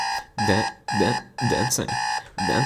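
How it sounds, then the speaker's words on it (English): An alarm clock going off in a video game, a loud, close electronic buzzing in repeated pulsing bursts of roughly half a second each. "I can hear the buzzing of my alarm going off."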